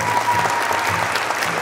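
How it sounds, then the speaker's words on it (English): Wedding guests applaud the newly married couple, a short burst of steady clapping from a crowd indoors. "please give them a big applause of hands"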